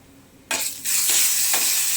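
Mustard seeds, urad dal and dry red chillies splutter in hot oil for a Tamil greens tempering, bursting into loud, dense crackling after a half-second of quiet and holding steady with sharp pops throughout.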